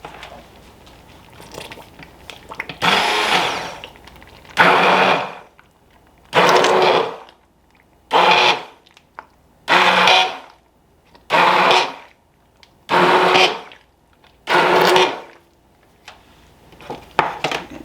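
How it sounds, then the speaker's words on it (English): An immersion blender runs in potato soup for a German slow cooker recipe, sounding in about nine separate loud bursts of roughly one second each, with short quiet gaps between them and no talking. "If you don't have an immersion blender, you could also use a potato masher"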